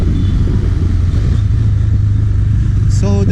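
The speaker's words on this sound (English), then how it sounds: "Now I'll put it to third and then again to second." A KTM Duke 390 motorcycle engine rumbles loudly and steadily up close while gears change using the quick shifter, and a short rising whine comes at the end.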